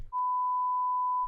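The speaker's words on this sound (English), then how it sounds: "we have to beep the name" A steady pure censor bleep runs just over a second at a constant pitch, cut in to mask a spoken name, with brief fragments of voice clipped at either end.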